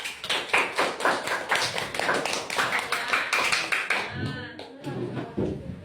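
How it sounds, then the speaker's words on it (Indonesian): A class claps for a student group, with brisk, rhythmic hand claps close by that stop after about four seconds, followed by some softer taps and murmuring voices. "tepuk tangan kelompok 4"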